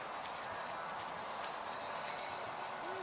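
A horse's hooves clip-clopping steadily during a riding lesson in an arena, a faint rhythmic beat under a constant hiss of background noise, with no talking.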